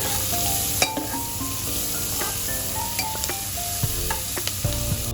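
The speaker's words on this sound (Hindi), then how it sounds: "अब मैं इसमें तुरंत अदरक लहसुन जो मैंने थोड़े बारीक काटा हुआ है वो मैं इसके अंदर डाल दूँगी। And I will once again give it a nice stir." Finely chopped ginger and garlic sizzle in a hot pan of oil for Punjabi pakoda kadhi, with a steady frying hiss and a few sharp clicks and scrapes as the mixture is stirred, close and alone.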